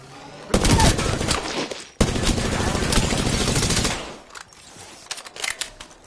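Rapid automatic gunfire in a shooter video game, two long loud bursts of continuous shots back to back, then a quieter stretch with scattered distant pops and a few sharper cracks near the end.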